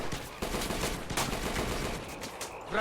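Rapid bursts of rifle and machine-gun fire crackle through a Men of War: Assault Squad 2 WWII battle, steady overlapping shots at moderate distance with sharper cracks standing out, no talking.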